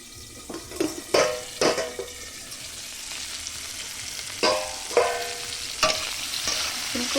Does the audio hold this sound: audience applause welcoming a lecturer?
no